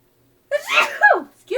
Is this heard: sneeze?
yes